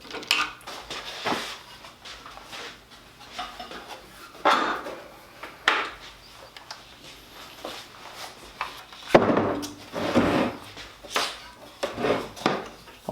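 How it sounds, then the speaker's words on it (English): A stationary belt sander lifted out of its 3-in-1 workshop station, with scattered metallic clanks, knocks and scraping rattles at irregular intervals, close by and fairly loud, with quiet gaps between the handling noises. "I'm going to remove my sander from this 3-in-1 station."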